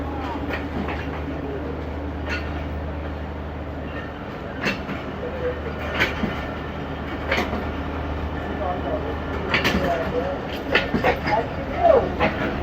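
A passenger train travels from Chaklala to Gulyana in Pakistan, a steady rolling rumble from inside the carriage with scattered rail clicks and knocks, and faint voices murmuring underneath.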